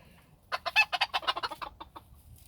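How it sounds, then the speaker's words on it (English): Three young black roosters giving a quick run of about a dozen close, sharp clucks in a rapid rhythmic burst, standing out clearly against a quiet background. "I'm starting to think that all 3 of these black ones are roosters"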